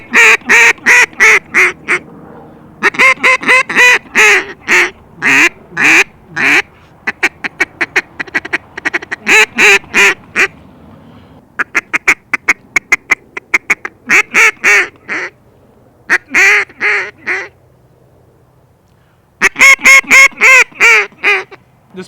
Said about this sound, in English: you can get those real soft quacks with the polycarb